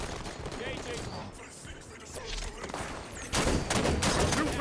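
Scatter shot weapon fire in the video game Halo 5 sends rapid bursts of blasts and crackling impacts that grow louder toward the end, with a voice talking over the action.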